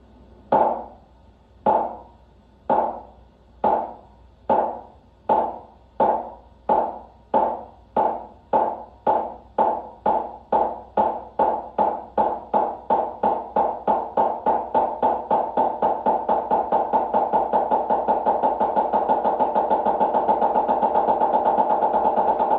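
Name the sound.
snare drum single stroke roll played continuously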